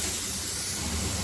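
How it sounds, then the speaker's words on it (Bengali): Ginger paste sizzles and fries in a hot pan while being stirred, a steady close hiss filling the short moment with no talking. "এরপরে দিয়ে দিলাম আদা বাটা, এটাও একটুখানি হালকা করে নাড়াচাড়া করে ভেজে কষিয়ে নেব।"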